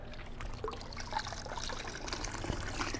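A tool brush dunked and swished in water for cleaning, giving a steady, close wash of splashing and trickling liquid throughout with no talk.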